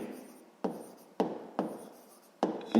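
Numbers written by hand on paper while working a sixth-grade maths exercise on the divisors of 16: short bursts of pen or pencil scratching, about five separate strokes with brief pauses between, close and fairly quiet.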